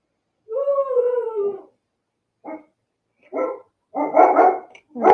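A pet dog lets out a drawn-out, howling bark up close, then follows with three shorter, sharper barks after brief silences, all clear and alone in an otherwise quiet room.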